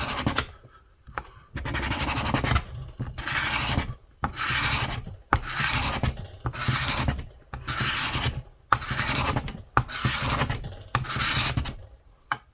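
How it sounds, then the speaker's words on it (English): A card scraper pushed by hand across a wooden surface such as an axe handle, scraping off clear coat: a run of about eight loud, close, raspy strokes of roughly a second each, separated by short pauses, with no voices. "you take your card scraper and you bend it the way you're wanting to cut"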